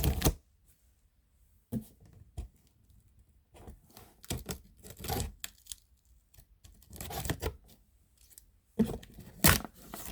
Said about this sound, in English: we are using my super sharp scissors to do the honors